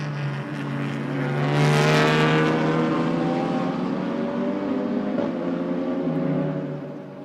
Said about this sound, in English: Here comes Garrett through first, up the hill